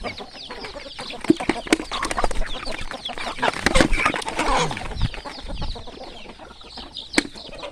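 A flock of chickens clucking and squawking close by, busy and overlapping, with occasional sharp calls and some wing flutters.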